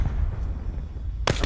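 A grenade goes off in a first-person shooter match on the Alcatraz map. A single sharp, loud blast bursts in near the end over a steady low rumble of game noise.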